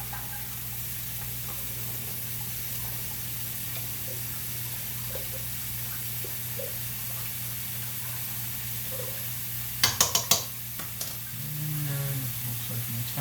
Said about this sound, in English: we're just going to stir that pasta again